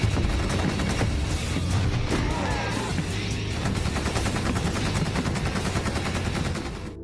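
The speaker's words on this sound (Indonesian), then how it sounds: "Setelah diberondong dengan banyak tembakan" Military gunfire in a zombie film scene: dense, continuous automatic bursts with sharp rapid cracks and occasional heavier booms, loud and unbroken for several seconds.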